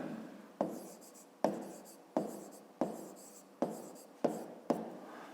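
A pen writes on paper in a series of short, close strokes, each starting with a sharp tap and trailing into a scratchy rub, about eight in steady rhythm.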